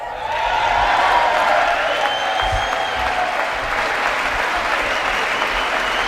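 Applause and some cheering fill a large chamber during a State of the Union address. The crowd noise is sustained and loud and carries a few whoops, with faint talk underneath.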